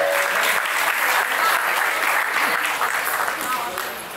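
Sustained applause from an indoor audience at a book launch, dense and even throughout before tapering slightly at the very end.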